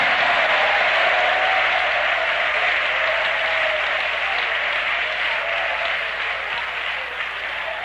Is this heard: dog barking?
no